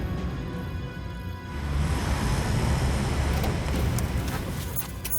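Car engine and road rumble as a vehicle is turned around on a road, a steady close motor drone that swells midway and continues without speech.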